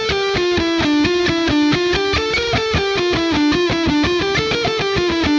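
Distorted electric guitar playing a reversed inside-picking warmup exercise: fast steady stream of picked single notes in a repeating string-crossing pattern, loud and close, with no talking.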